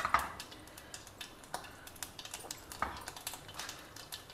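Mustard seeds sputter in a spoonful of hot oil in a pan, giving faint, scattered pops and ticks over a quiet background.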